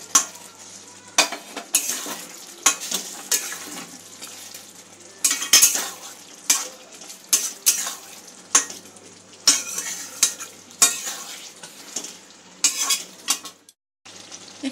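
Chicken pieces frying in a pan while a spoon stirs them constantly, sizzling punctuated by repeated scraping and clinking strokes against the metal in an irregular rhythm, close and alone with no talk.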